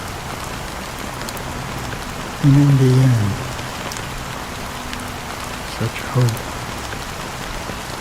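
Rain falling in the Honkai Star Rail video game, a steady hiss of raindrops on surfaces throughout, with someone speaking briefly over it.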